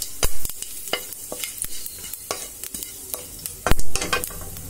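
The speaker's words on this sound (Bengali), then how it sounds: "ফোড়নটাকে এবার আমি খুব ভালোভাবে ভেজে নেব" Dried red chilli and panch phoron frying in hot oil for a mango chutney, a close, steady sizzle broken by repeated sharp scraping strokes of a spoon stirring the pan, with no one talking.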